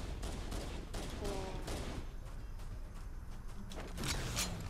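Rapid bursts of gunfire from a Halo: Combat Evolved firefight against a Hunter in an underground mission, dense and continuous throughout with sharper blasts near the end, a voice briefly audible underneath.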